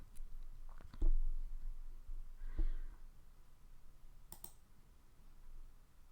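A computer mouse gives a few sharp, isolated clicks spaced seconds apart against a quiet room background.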